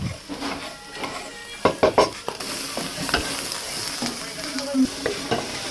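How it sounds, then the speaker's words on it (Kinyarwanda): Meat fries with onions and peppers in a pan, with steady sizzling under repeated scraping and stirring clinks of a utensil against the pan. "Hano duhita dukaranga ibitunguru ku ruhande. Noneho n'inyama zacu turakomeza turazikaranga."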